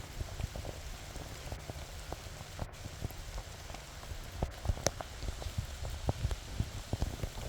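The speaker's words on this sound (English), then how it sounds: "Nice gentle rain" Gentle rain falls on a grazed pasture, with soft, scattered drops ticking close by over a quiet steady patter, faint and continuous with no voices.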